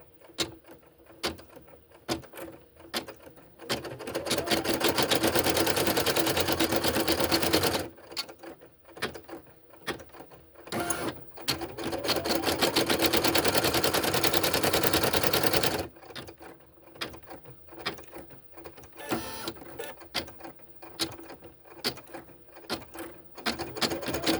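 An embroidery machine stitches felt voodoo doll pieces in two long, rapid, rattling bursts separated by quieter mechanical clicks and whirring, heard up close with no voices.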